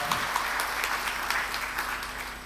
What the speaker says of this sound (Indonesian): Tepuk tangan yang luar biasa untuk anak-anak kita.